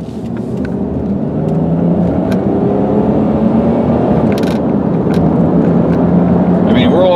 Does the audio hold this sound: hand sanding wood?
no